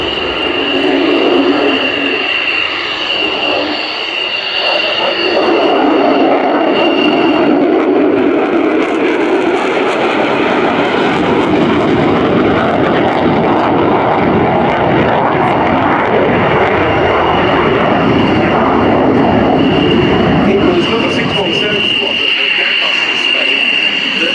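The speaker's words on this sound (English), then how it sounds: "Royal Air Force and Royal Navy operates the F-35B variant, which has a short takeoff and landing capability" An F-35B Lightning II jet flies a display at RIAT 2024, its loud, continuous engine roar sustained and broad throughout, swelling slightly as it passes, with no speech over it.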